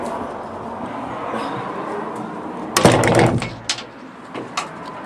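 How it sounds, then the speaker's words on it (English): A door being shut during an outing, a brief sharp bump and rattle standing out from a steady background hum, with a few smaller knocks after it. "Let's close the door."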